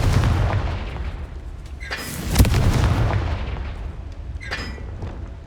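Confringo blasting spells explode in the Hogwarts Legacy video game. A heavy boom lands near the middle with a rumbling tail, and a lighter blast follows later over low background rumble.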